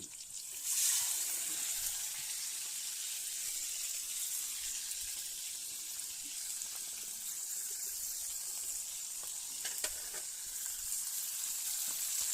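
Steady sizzling of ground wasps being stir-fried in a pan, a continuous bright crackle running the whole time with occasional small pops and stirring scrapes, close and moderately loud.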